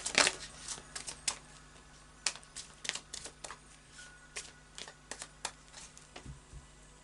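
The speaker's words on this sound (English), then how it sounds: "I'll just do a final shuffle now of the Moonology Oracle deck" A Moonology Oracle card deck being shuffled by hand, quiet close riffles and soft slaps of cards coming in irregular bursts with brief pauses between them.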